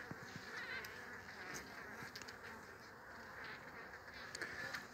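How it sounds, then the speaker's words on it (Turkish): Honeybees at a hive mob an intruding bumblebee, making a dense, continuous buzz close by with brief sharper whines rising over the steady hum. "bombus mücadelesi, bombus ve arıların mücadelesi atmaya çalışıyorlar"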